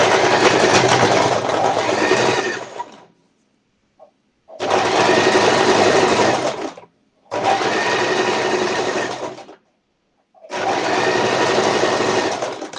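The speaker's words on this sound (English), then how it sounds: "this is a simple stitching I'm making just from ending to here" A sewing machine stitches fabric in four loud, steady bursts, each running a couple of seconds and separated by short pauses, with no talking.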